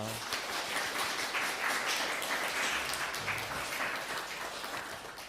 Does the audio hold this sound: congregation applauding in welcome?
yes